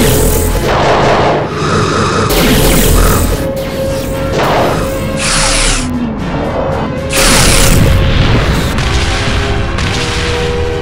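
Starship weapons fire and explosions in a Star Trek III space battle near Beta Stromgren: a loud, dense run of crashing booms and blasts, with several big impacts in close succession over a sustained roar.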